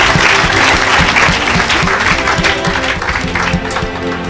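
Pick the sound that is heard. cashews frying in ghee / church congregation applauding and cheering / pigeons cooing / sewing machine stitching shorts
church congregation applauding and cheering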